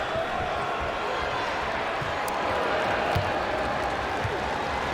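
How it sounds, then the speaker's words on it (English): Basketball arena crowd in Portland, Blazers fans at the final regular-season game against the Warriors, rising and applauding near the end; a dense, steady roar of clapping and cheering fills the space, with a commentator talking over it. "Crowd rises to their feet. And a fine hand from the fans here in Portland."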